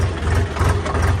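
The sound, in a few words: tractor engine running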